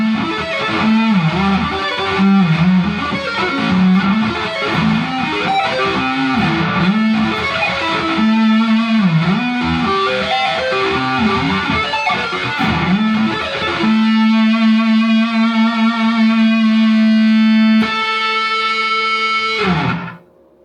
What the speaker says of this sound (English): what distortion sounds like on the neck pickup